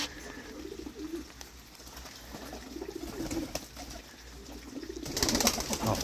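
Pigeons coo in low, repeated murmurs inside a coop, ending with a burst of flapping wings close by.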